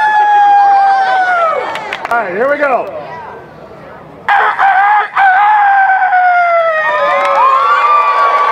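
A person imitates a rooster's crow at a human crowing contest during a town centennial celebration, with several long, loud, wavering crows rising and falling in pitch, separated by a brief pause, as a crowd cheers around them.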